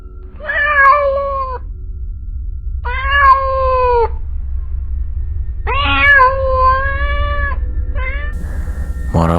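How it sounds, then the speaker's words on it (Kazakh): A cat meows loudly and close in three long drawn-out cries with short pauses between them, then a shorter fourth call, set on a street over a low background hum. "Сол кезде мысықтың даусы естілді"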